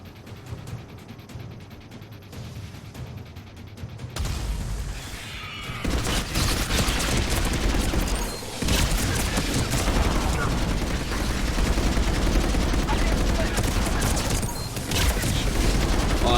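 Rapid gunfire from the Mass Effect 3 multiplayer mode bursts in after a quiet start and becomes dense and sustained, with overlapping volleys and impacts that stay loud to the end, with players talking at times.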